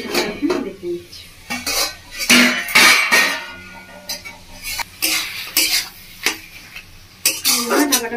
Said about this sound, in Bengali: ঢাকাটা খুলে একটু এভাবে নাড়িয়ে দিচ্ছি।